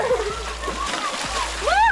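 Splashing in the cold, deep river at Sapang Bato, a brief churn of water with sloshing, while voices talk and a high voice calls out excitedly over it.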